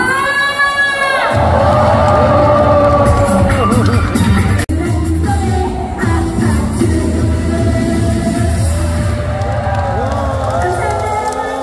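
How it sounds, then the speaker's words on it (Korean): An outdoor festival crowd at the Namhae Garlic and Hanwoo Festival erupts into loud clapping, cheering and shouting after a brief musical sting. The dense roar of many voices stays close and full throughout. "다같이 전방에 박수와 함성"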